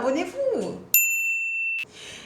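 A notification bell gives one bright, clean ding that rings for about a second and then cuts off. A voice talks just before and after it.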